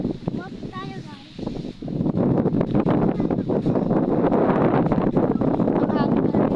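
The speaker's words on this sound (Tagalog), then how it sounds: "Mahangin pala dito." Wind blusters outdoors in a strong, continuous rush that batters the microphone and grows louder after the first two seconds, while people talk over it.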